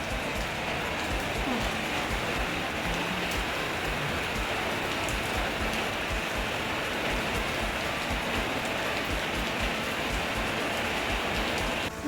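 Heavy rain falling in the early morning after pouring all night, a dense, even hiss of drops that holds steady and unbroken throughout, with no voices.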